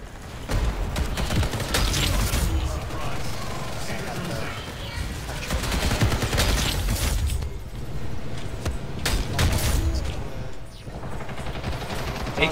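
Sustained AK rifle fire in the shooter game Ghost in the Shell: First Assault, dense bursts of rapid shots running almost continuously, loud and close, with other battle noise mixed in.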